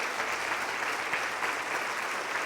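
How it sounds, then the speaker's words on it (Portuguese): A church congregation applauds during an evening service, many hands clapping in a thick, unbroken wash that stays loud and close for the whole stretch. "aplauda o nome do Senhor nessa noite"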